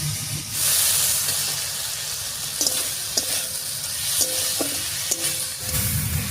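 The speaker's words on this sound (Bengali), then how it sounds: "ডালটা দিয়ে মশলার সঙ্গে একটু নাড়িয়ে নিয়েছি, এবারে কয়েকটা চেরা কাঁচা লঙ্কা দিয়ে দিচ্ছি" Masoor dal frying with spices and pumpkin, with slit green chillies added, gives a steady hiss and sizzle. Several bright metallic clinks of a ladle ring against the pot near the end.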